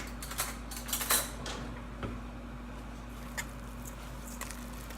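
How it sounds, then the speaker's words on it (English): A spoon stirring breadcrumbs into a sweet potato burger mixture in a bowl gives scattered light clinks and scrapes, a few sharper taps standing out against a quiet, humming kitchen. "you're supposed to mix this, so you probably want a spoon rather than a potato masher at this point"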